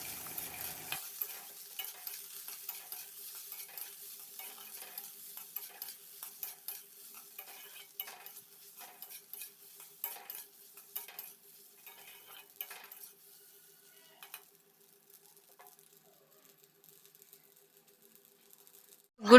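Egg and pasta frying in a pan with a spoon stirring, soft sizzling under frequent light scraping and clinks of utensil on metal, quieter toward the end before a sudden final knock.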